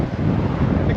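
Strong headwind buffeting the microphone while cycling, a loud, constant low rumble with no voices over it.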